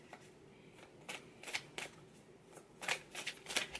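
Tarot cards being shuffled by hand, giving soft, quick riffling bursts in irregular clusters, close and quiet with no talking.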